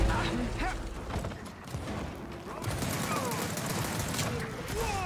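Rapid, dense bursts of gunfire fill a Gears of War 4 multiplayer match, near and steady from start to finish amid other clattering battle noise.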